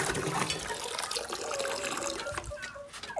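Water poured into a container for a calf to drink, a continuous splashing, gurgling fill heard up close on a farm, with a few faint clunks near the end.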